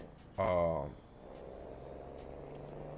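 A Peterbilt 389 truck engine with an aftermarket engine pack in a truck driving video game, running as a steady low rumble that goes on without a break after a brief loud burst near the start.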